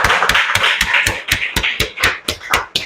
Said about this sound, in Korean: 여러분 박수 한번 쳐주세요